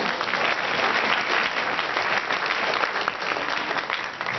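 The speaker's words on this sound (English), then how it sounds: "so please give them a round of applause." Steady, full audience applause for volunteer dancers at a Karen cultural dance event, dense clapping from many hands sustained at an even level throughout with no pause.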